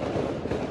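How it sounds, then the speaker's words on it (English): New Year's fireworks crackle and pop in a brief, dense burst, with the sharp reports fairly loud and continuous throughout. "So you guys can hear, that's all the fireworks."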